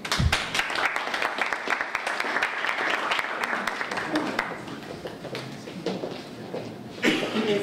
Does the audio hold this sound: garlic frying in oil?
no